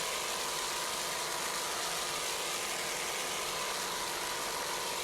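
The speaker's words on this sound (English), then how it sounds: "Just listen to those Zool racing engines." Zool racing boat engines of the RC Marine racing team on Lake Erie, heard as a steady, loud, dense broadband roar that holds without a break and has no talk over it.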